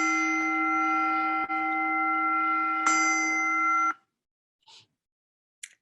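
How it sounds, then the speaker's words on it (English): A sustained bell-like electronic tone with steady harmonics rings loudly for about four seconds, marked by a brief dip and a fresh strike, then stops abruptly, leaving silence broken by two faint short chirps. "And we'll hear those bells in just a moment."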